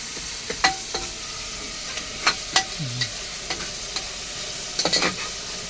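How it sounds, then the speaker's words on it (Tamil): Tomato rice fried and stirred in a pan, with a soft steady sizzle and scattered light scrapes and taps of a spoon against the pan, close and alone with no talking. "நல்லா கிண்டுங்க."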